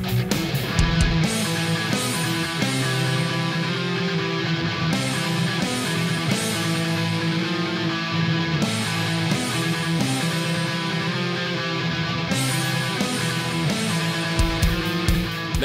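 A dense, loud, distorted heavy metal guitar riff with driving drums and bass, repeating in a steady pattern for the whole stretch.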